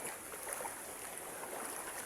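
Clear river water flows steadily through a natural rocky stretch, a faint, even hiss and gurgle of current with no voices.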